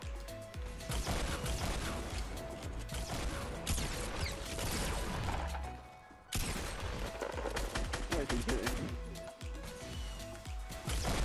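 Gunfire in Fortnite Battle Royale, dense and continuous bursts of shots and impacts crackling over busy game sound, with a brief lull midway before the firing resumes.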